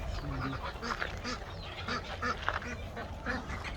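Geese and ducks at a farm poultry coop call in a dense, overlapping chorus of honks and quacks, steady and fairly near, with no talk.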